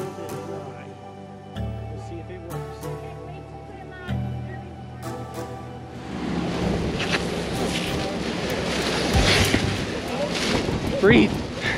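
Wind gusts and water noise on a tour boat heading toward Niagara Falls, a steady broad rush that builds and swells after a quieter opening with tonal background sounds.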